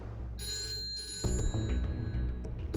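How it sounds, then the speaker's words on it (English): A telephone rings in the middle of the night in a New Zealand home, a quiet, continuous electronic trill with a steady tone that keeps sounding. "Phone calls at this time of night only bring bad news."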